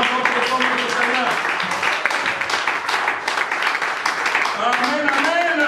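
A church congregation applauds during a service, with sustained, fairly loud clapping that carries on throughout while a voice rises over it.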